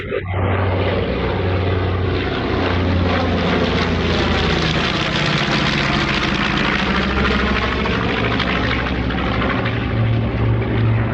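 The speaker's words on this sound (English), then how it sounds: "Transport planes." Propeller-driven transport planes pass overhead with a loud, continuous droning roar that swells and holds across the whole stretch, steady and close, with no voices over it.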